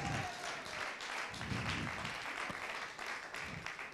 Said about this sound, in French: Acclamez fortement notre Dieu.